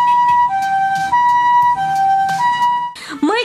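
An ambulance siren wails in Japan as cars on a narrow road pull aside, a loud two-tone alternating call that holds steady, then gives way to a rising whoop at the end.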